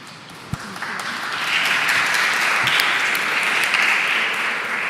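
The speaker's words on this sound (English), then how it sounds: "That was an applause to Tunde" Applause from a seminar audience on human rights in public procurement, a steady wash of many hands clapping that swells after the first second and holds loud and continuous to the end.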